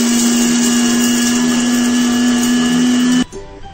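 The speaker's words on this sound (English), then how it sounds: "we'll be adding oats and Daliya into the mixer and we'll be mixing it for at least a minute" Kitchen mixer grinder whirring loudly and steadily as it grinds oats and daliya, a constant high electric whine that cuts off abruptly near the end.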